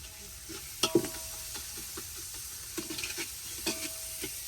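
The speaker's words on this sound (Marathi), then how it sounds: "टमाटर चांगलं मऊ करून घेऊ तेलात चांगलं मिक्स करून तेलात टमाटर लवकर मऊ व्हावं" Chopped tomatoes sizzle steadily in hot oil with a pinch of salt as they soften for zunka, with scattered scraping and clinking stirs from a spoon against the pan, close and continuous with no talking.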